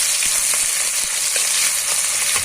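Chopped onion sizzles steadily in hot oil as it is stirred toward a light brown for a duck curry, a dense close frying hiss with small pops and a few spatula scrapes, no voices.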